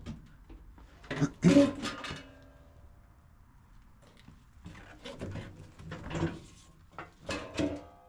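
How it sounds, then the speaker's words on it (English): The heavy door of an abandoned vintage Amtrak passenger car in the woods is forced open with a burst of metallic clunks and scraping. A quiet pause follows, then further rattling knocks and thuds as it moves, all close by. "That is one heavy door."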